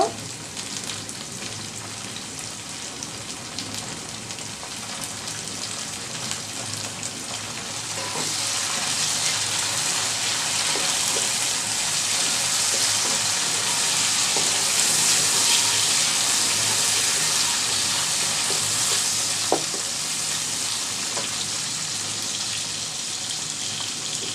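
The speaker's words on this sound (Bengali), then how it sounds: "পেঁয়াজ রসুনের সাথে কিন্তু আমি চিংড়ি মাছটা একটু তেলে ভেজে নিব" Shrimp frying in oil with onion and garlic for a mixed vegetable dish, a steady hissing sizzle throughout that swells louder about a third of the way in, with occasional faint clinks and no talking.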